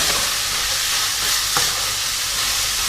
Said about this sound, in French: Allez, j'ajoute mes oignons et mon poivron